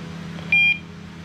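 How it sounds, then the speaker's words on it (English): A GSM wireless alarm panel gives a single short, clear electronic beep, lasting about a fifth of a second over a quiet room hum. "You'll hear the alarm beep as well"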